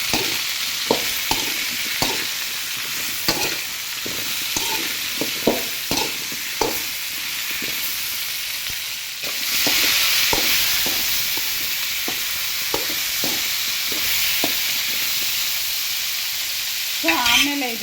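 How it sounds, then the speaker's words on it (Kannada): Capsicum and turmeric sizzle in oil in a pan while a spoon stirs, with repeated scraping taps over a continuous frying hiss and a louder surge midway, close and without talking. "ಈ ರೀತಿ ತಿರುಗಿಸಿ ಸ್ವಲ್ಪ ಎಣ್ಣೆಯಲ್ಲಿ ಚೆನ್ನಾಗಿ ಫ್ರೈ ಆಗಲಿ"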